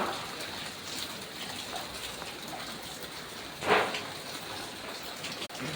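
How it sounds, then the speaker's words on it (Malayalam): Steady rain falls in a continuous wash of hiss, with one brief louder splash near the middle and no voices. "ഇല്ലാത്ത മഴ."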